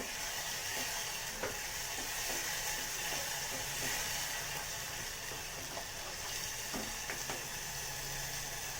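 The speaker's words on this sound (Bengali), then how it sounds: "বেশি ভাজবো না পোস্ত আছে সেই জন্য অল্প ভেজে নিলাম" Poppy seeds (posto) lightly frying in a pan, a steady soft sizzle with scattered small pops and clicks, close and even throughout.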